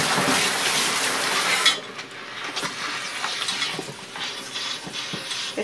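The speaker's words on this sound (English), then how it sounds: "It's great having this spray wash." A spray washer hisses water over milking equipment for a couple of seconds, then stops, leaving light clinks and splashes of metal parts being handled.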